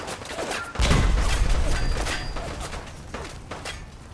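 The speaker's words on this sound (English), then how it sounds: "I don't know which one is shooting the missile launcher" Missile launcher fire in Fallout 4: a heavy thumping blast that kicks in with a low rumble and rolls off into a noisy, crackling tail, followed by scattered distant gunfire-like pops.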